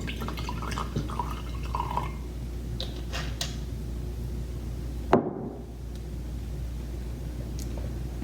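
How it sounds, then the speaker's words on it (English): Apple toner poured from a bulk bottle into a measuring device, with a soft trickle and drips followed by a sharp clink near the end, heard alone at close range. "pour from your bulk into the measuring device about 50 to 60 mils"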